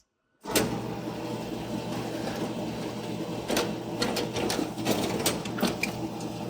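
A Formax FD-6204 folder inserter runs steadily, pulling a single sheet, folding it and stuffing it into an envelope, with a continuous mechanical whir and hum broken by sharp clacks and snaps from its feed and insert mechanism.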